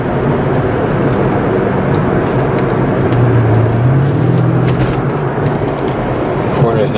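A Mercedes-Benz CLK550 with AMG package (C209) engine roars loudly and steadily, climbing slightly in pitch as it accelerates, with heavy road and wind rumble throughout.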